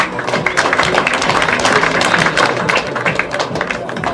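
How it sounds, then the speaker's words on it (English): An audience gives loud, sustained applause for a girl in a black dress, dense clapping filling the whole stretch at an even level. "Come on guys, let's give this girl a big round of applause"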